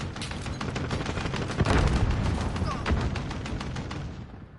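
Dense, continuous gunfire from the Warzone video game, a loud fusillade of overlapping shots and blasts filling the whole stretch with no pause.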